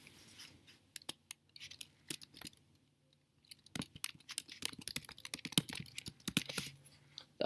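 Typing on a computer keyboard, bursts of quick clicking keystrokes separated by a short quiet pause, then denser, faster tapping, close and clear with faint background hum and no speech.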